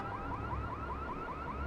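A car alarm in Watch Dogs wails in a rapid, repeating rising whoop, steady and moderately loud over a low background hum.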